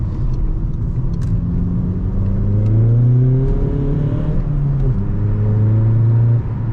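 A SEAT Ibiza Bocanegra revs hard through its gears, the engine note climbing in pitch, dropping briefly at a shift, then rising again; a steady, close in-cabin drone with no talking.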